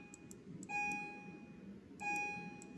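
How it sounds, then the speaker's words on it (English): Two quiet electronic bell tones chime in a room during a math lesson, each a clear ringing note that decays slowly, the second about a second and a half after the first, over faint background noise. "Don't worry about that bell, guys."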